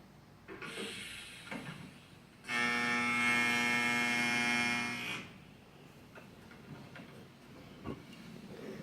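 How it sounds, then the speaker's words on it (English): TIG welding torch laying a two-inch bead on metal, a steady buzzing hum that starts abruptly, holds for about three seconds, then cuts off, with quiet handling noises before and after. "I'm going to make a weld 2 inches long."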